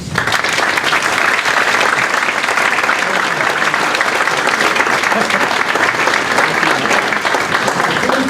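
A seated audience gives Senator Phil Gramm sustained, loud applause of dense, even clapping that holds steady throughout.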